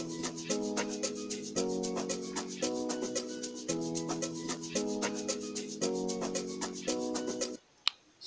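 A TTC bass instrument in FL Studio Mobile plays a repeating stepped bass pattern for an amapiano-style kavalungu beat, steady and loud under bright hi-hat ticks, then cuts out near the end.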